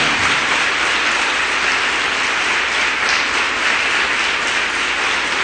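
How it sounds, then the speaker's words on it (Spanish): A church congregation applauds in one dense, steady roar of clapping. It is loud and close and keeps up unbroken from start to finish, with no speech over it. "Y si le vas a aplaudir, apláudele bien"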